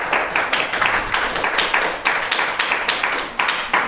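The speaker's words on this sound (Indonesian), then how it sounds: "beri tepuk tangan untuk penampilan yang kelima" An audience claps for the fifth performance at a student event, a steady, fairly loud run of rhythmic claps with no talking over it.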